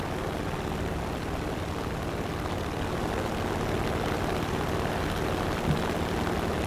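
A propeller warplane engine drones in the War Thunder game, a steady, full, unbroken roar that holds at even loudness throughout with no talk over it.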